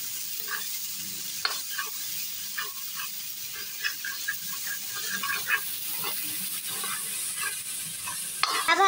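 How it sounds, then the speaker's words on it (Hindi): Whole garam masala spices fry in a hot pan with oil, giving a continuous crackling sizzle broken by repeated scraping stirs and light clinks close by, with no voices. "अब हम इसमें हम साबुत गरम मसाला डालेंगे, इसको अच्छे से फ्राई कर लेंगे।"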